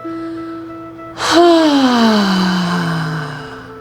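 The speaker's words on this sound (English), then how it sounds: "Again, inhale, filling your lungs full of oxygen, and exhale out loud." A loud, long exhale of relief during an embodiment breathing practice: a sudden, forceful out-breath that is voiced, audibly sighs, and slowly trails off over a couple of seconds, close to the microphone.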